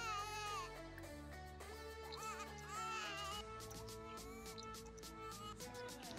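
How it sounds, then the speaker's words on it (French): A baby in The Sims 4 fusses and cries over steady game music, with whiny rising wails repeating across the few seconds and no voices talking. "Ah si, il y a un bébé qui pleure."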